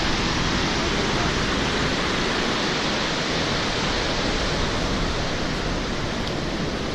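Kepler Cascades waterfall in Yellowstone roars as a dense, unbroken wash of rushing water, loud and close, steady from start to finish with no other sounds.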